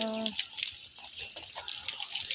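Water splashes and trickles onto garden plants and red amaranth greens in a small home garden, with uneven gurgling pours following a brief voice at the start.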